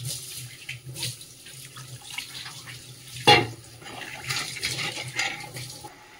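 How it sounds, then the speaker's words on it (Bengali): Tap water runs steadily into a pan for a fish curry already seasoned with salt and turmeric, a continuous close splashing flow with one brief sharp clatter midway. "এবারে জল দিয়ে দিচ্ছি।"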